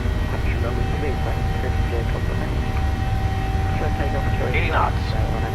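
Airliner engines roaring at takeoff power in Microsoft Flight Simulator, a steady loud broadband rumble with a faint tonal whine, continuous throughout.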